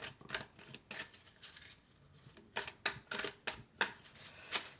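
A tarot deck is shuffled and cut, giving quick papery riffles and sharp card snaps in uneven bursts, close and moderately quiet, with brief lulls between them.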